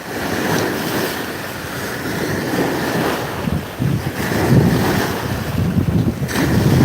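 Wind gusts steadily across choppy open water near a beach lined with palm trees, a continuous roaring rush with buffeting microphone wind noise that swells and eases throughout.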